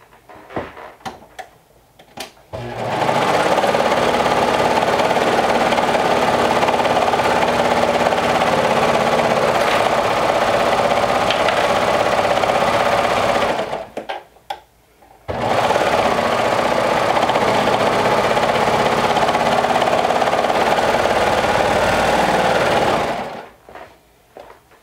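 A sewing machine runs steadily and loudly in two long continuous bursts, stitching a seam on a Sinclair Lotte garment, with a brief pause between runs and no talking.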